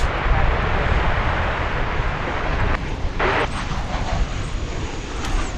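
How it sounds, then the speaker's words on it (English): An American Airlines jet at Dallas Fort Worth International Airport produces a steady, broad engine roar that stays loud and constant throughout, with no talking. "here comes Flight 2788, American Airlines"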